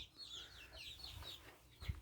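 Fighting-cock chickens kept at a rural Thai home cluck and call in a steady low chatter, moderately distant, with a brief thump near the end.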